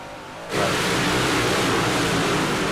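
Loud, steady engine roar from a big block race car bursts in after a brief quieter stretch and holds at full volume, broadband and rumbling with no talk over it.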